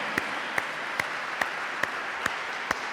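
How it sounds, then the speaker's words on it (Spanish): Steady rhythmic clapping in unison from a church congregation, about seven evenly spaced claps over a constant murmuring room noise. "Démosle un aplauso al Señor."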